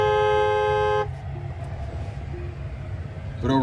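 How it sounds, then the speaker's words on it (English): A 2024 Tesla Cybertruck Foundation Series sounds its horn in one loud, steady, harmonically rich blast lasting about a second, followed by quiet vehicle ambience and a brief electronic tone at the end. "I'll show you what the horn sounds like."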